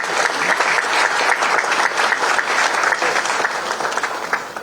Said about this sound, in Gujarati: આપણે તેને અભિવાદન સાથે તાળીઓથી વધાવીએ.